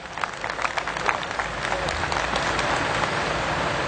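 An audience claps loudly at a stand-up comedy show, a dense burst of applause that holds steady for a few seconds with crowd noise mixed in.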